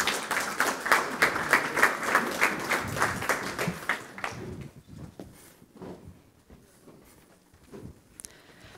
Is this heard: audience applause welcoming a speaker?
yes